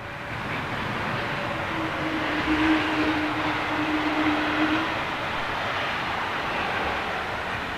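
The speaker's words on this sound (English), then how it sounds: "a very distinctive sort of like almost needs greasing noise coming from those little engines" An Airbus A220 passes with its small jet engines giving a steady, distinctive whine that sounds almost in need of greasing, a sustained tonal hum over broad roar, loudest mid-pass and steady throughout.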